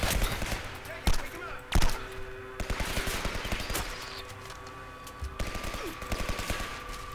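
Rapid automatic gunfire in the first-person shooter Legendary crackles in dense bursts, with a few sharper, louder shots standing out. A voice talks over the fighting.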